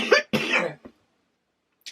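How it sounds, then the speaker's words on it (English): A person with a tickly sore throat coughs in two quick harsh bursts, close to the microphone, followed by a small throat sound and then silence. "Every now and then I have a little mini session where I can't seem to stop coughing."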